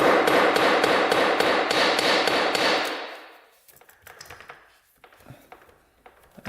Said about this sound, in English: We're gonna pound that down.